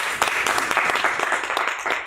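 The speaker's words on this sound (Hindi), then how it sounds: "आप तालियां बजाएंगे तो बहुत अच्छा लगेगा।" An open mic audience at La Vie En Rose claps, a dense burst of applause that holds steady for a couple of seconds, close and lively with no voice over it.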